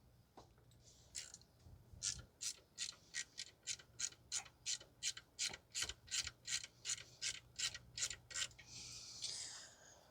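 A ratchet wrench with a 12 mm socket loosening the drive belt tensioner on a 2010 Toyota Corolla 1.8, about twenty crisp, evenly spaced ratcheting clicks close up, ending with a brief scraping rustle.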